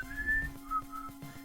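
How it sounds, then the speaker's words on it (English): A person whistles a brief melodic phrase of a few clear notes at moderate volume over a low steady hum. "All that whistling on that song."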